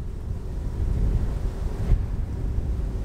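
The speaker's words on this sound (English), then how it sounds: "Boy, it's getting windy." Wind gusts buffet the microphone outdoors during a beehive inspection, a low, rough rumble that swells and dips across a few seconds with no talking.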